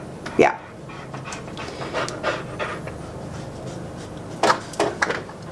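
A dog pants rapidly and steadily up close, with a few louder huffs and snuffles, and a voice speaks briefly.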